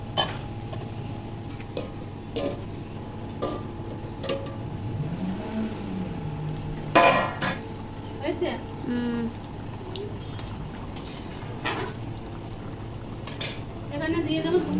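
Boiling water in a cooking pot stirred with a utensil for a fish curry, with light scraping and clinks of metal against the pot over a steady background hum, while a person talks throughout.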